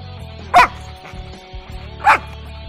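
Two sharp barks from a Labrador about a second and a half apart, close by, over a low steady hum.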